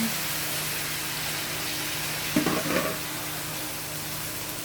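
Fresh string beans (sitaw) go into a pan of frying pork adobo, a quiet, steady sizzle that swells briefly into a louder crackle and then settles back to a low hiss.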